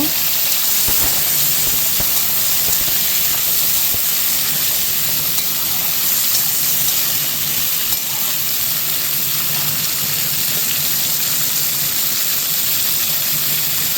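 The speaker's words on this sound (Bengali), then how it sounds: "কচি আলু কেটে রেখেছিলাম, ওটা দিয়ে দিয়েছি। এখন নেড়ে চেড়ে নেব।" Young potatoes stirred in a hot pan for a vegetable dish with greens and yardlong beans, giving a steady, loud hiss and sizzle throughout with a few faint scrapes, no talking.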